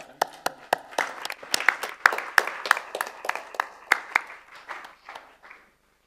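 Sparse applause from a small audience after a talk at a business school, a handful of distinct claps in an uneven rhythm that thins out and stops near the end.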